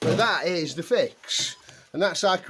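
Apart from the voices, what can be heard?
None of the usual background noises is heard.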